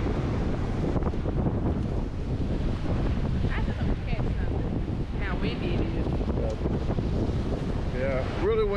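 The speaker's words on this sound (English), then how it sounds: "back at the pier, it's really windy" Strong wind at a pier buffets the microphone in a constant roar, with water sounds and brief voices in the background.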